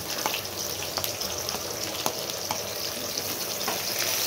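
Onion frying in a pan gives off a dense, even crackling hiss with a few faint stirring clicks, close and continuous, with no speech.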